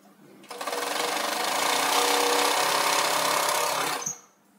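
An overlock sewing machine locking the edges of sweatshirt fabric whirs at high speed for about three and a half seconds, a loud, steady buzzing run that starts and stops abruptly.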